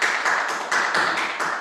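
Audience at a lecture on basic income applauding, a short burst of steady, rhythmic clapping that is close and fairly loud, with no talking over it.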